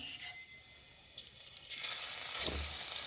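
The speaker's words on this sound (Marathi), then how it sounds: "आपण एवढे जिरे टाकू तेलामध्ये त्यानंतर लसणाची बारीक केलेली पेस्ट टाकू" Cumin seeds and garlic paste hit hot oil in a pan while aloo mutter is being made. A close, moderate sizzle swells as the paste goes in, with a clink of a spoon or utensil near the end and no voices.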